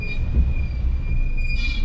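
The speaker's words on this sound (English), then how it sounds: "My brakes are squeaking" A steady high-pitched squeal from car brakes, holding one sustained tone over low road rumble inside the moving car.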